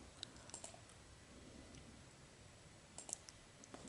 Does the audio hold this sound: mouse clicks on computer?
yes